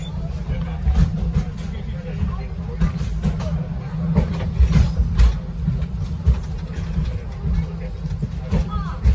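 Low steady rumble of the Wildlife Express train at Disney's Animal Kingdom with rattling carriage noise, and murmuring voices from passengers throughout.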